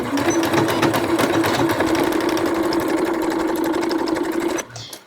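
A sewing machine stitches a lace border onto fabric for a baby beach poncho, running in a steady, fast, close whirring rattle for nearly five seconds before stopping abruptly.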